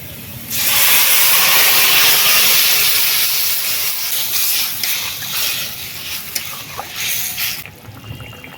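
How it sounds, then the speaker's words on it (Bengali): Curry broth with fish boils loudly in a pot, a steady, close rushing hiss and bubbling that swells after a brief quieter start and stays strong throughout. "ঝোল ফুটে গেছে"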